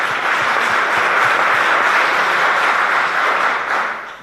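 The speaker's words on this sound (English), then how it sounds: "Round of applause for Mr." A crowd at a general election hustings in Hungerford applauds steadily for a few seconds, dense clapping from many hands that tapers slightly at the end.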